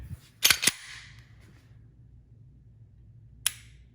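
Dry-fire trigger clicks on an empty CZ P10C pistol: two sharp, close metallic clicks in quick succession, then a pause and a single crisp click of the trigger reset, with quiet background between.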